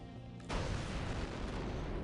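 Planted explosives detonating in the Republic Commando video game, a sudden loud blast half a second in that becomes a dense, sustained roar of rumbling debris and noise.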